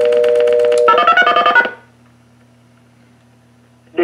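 A pulse-to-DTMF converter on a rotary telephone sends a quick burst of dual-tone dialing beeps, a steady tone followed by a rapid run of short pulses, then a low hum of line noise.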